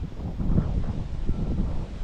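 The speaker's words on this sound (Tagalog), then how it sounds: "Sobrang hangin talaga." Strong wind gusting hard against the microphone, a low, rumbling roar that surges and dips over a couple of seconds.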